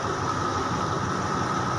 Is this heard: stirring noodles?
no